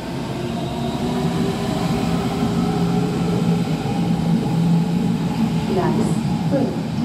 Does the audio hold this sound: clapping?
no